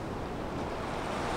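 Storm waves washing over a narrowing pebble beach at Simeiz in Crimea, a loud, close, continuous rushing wash mixed with wind buffeting the microphone.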